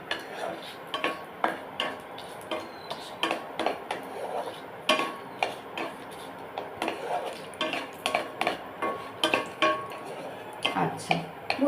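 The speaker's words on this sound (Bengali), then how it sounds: "এলাচ, দারুচিনি আর লবঙ্গ। গন্ধ বেরিয়ে এলে এটা আমি 3 মিনিটের কাছাকাছি সটে করে নেব।" Cardamom, cinnamon and cloves sautéing in a pan for chicken kalia made without onion or garlic, heard as a steady run of close, sharp spoon scrapes and clinks against the pan, with only a faint sizzle underneath.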